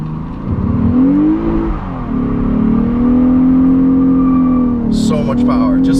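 A 2015 Lexus RC350 F Sport with a quad-cam V6 launching hard: a loud, steady engine roar climbs in pitch through the gears, dips briefly at a shift, and a short high squeal cuts in near the end.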